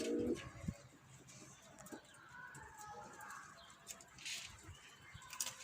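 Pigeons coo softly at close range amid light rustling and a few fluttering sounds, with a faint voice murmuring in the background.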